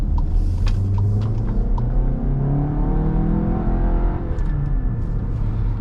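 Turbocharged VW Tiguan SEL SUV engine pulls hard on a back road, a loud continuous rumble rising in pitch as it accelerates, then settling after a gear change, with no talking.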